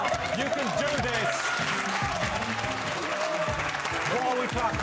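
A studio audience claps steadily for several seconds at a Christmas comedy quiz show, with voices talking and calling out over the applause.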